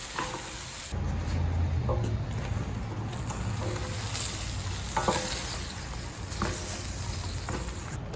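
Chicken wings and chicken liver fry in a pan for dry adobo, a close, constant sizzle with occasional stirring knocks and scrapes, no talk over it.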